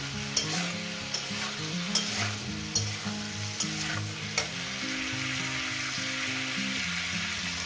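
Cauliflower and small fish frying in hot oil, a continuous loud close sizzle with regular stirring knocks of a spoon against the pan, no voices.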